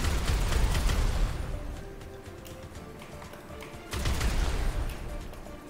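Gunfire in the video game GTA 5 comes as rapid, clattering bursts at the start and again near the end, with quieter rumbling action in between.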